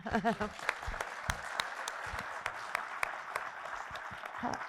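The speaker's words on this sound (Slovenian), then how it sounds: "tako da tudi županu en aplavz" An audience at an evening talk event applauding for the mayor, steady clapping from a crowd in a hall with a voice talking over it.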